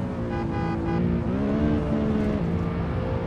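A Ford Mustang in the racing game Assetto Corsa roars close by with a steady, loud engine drone that shifts pitch as it pulls alongside and passes, with other engine noise underneath.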